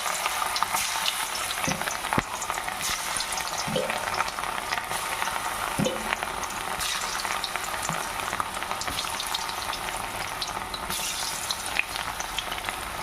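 Batter-coated cabbage pieces fry in hot oil with a steady, dense sizzle and a few soft clicks and pops scattered through it, with no talking.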